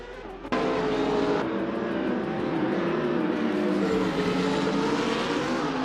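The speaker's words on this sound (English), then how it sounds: "Blackbeard is driving a 2009 Mooncraft Shiden" A 2009 Mooncraft Shiden race car in a racing video game, its engine droning loud and steady after a sudden start, with a sustained whine and no talk over it.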